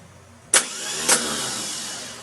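Starter motor on a Case 430 tractor, two sharp clunks as the bendix slams forward, followed by a steady whirring spin that slowly fades, close and loud with no talk.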